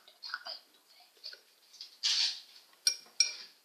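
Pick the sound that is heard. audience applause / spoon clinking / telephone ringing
spoon clinking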